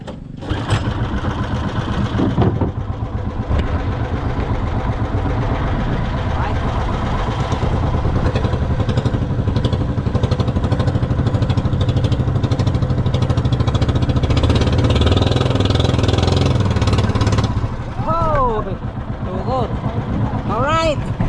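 A motor vehicle engine starts and keeps running, a loud, steady mechanical drone close by, while people talk over it throughout.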